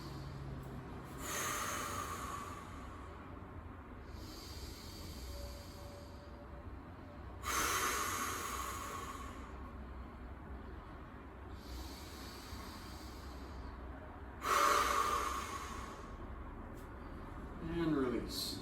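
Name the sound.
three deep breaths during yoga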